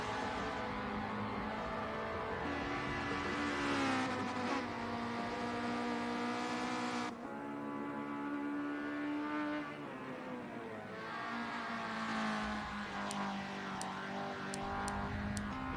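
During an endurance race, a race car climbs a hill through a tricky section, its engine droning steadily and loudly as the pitch rises and falls through gear changes, with no talk.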